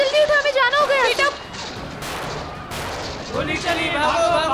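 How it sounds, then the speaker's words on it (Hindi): Amid shouting voices in a Hindi TV drama scene, a couple of sharp gunshots crack out in the middle, partly masked by the talk around them. "ये अचानक गोलियों की आवाज कैसे आ गई?"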